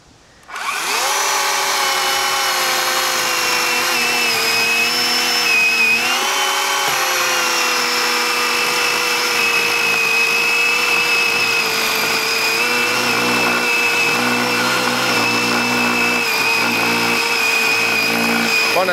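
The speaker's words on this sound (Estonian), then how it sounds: "Katsetame saagi edasi." A Dedra battery chainsaw cuts a log about 20 cm thick, starting abruptly and then holding a loud, steady, high motor whine with slight dips as the chain bites into the wood, close by and without talking.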